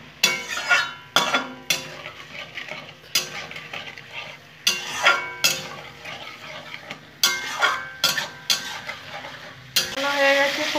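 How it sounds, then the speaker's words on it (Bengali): Rice and spices are stir-fried in oil for a vegetarian eggplant dish, with a spoon scraping the pan in repeated rhythmic strokes, each stroke followed by a brief burst of sizzling. "এখন আমি কষিয়ে নেবো খুব ভালো করে"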